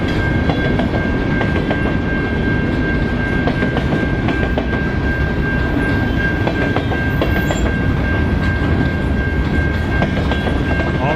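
A long train rolls steadily past close by, with a continuous loud rumble and rhythmic clickety-clack of wheels over rail joints, plus a faint steady whine, and no voices.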